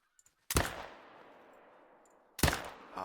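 Two sharp rifle shots fired at boars in theHunter: Call of the Wild, each with a loud crack and a long decaying echo, about two seconds apart.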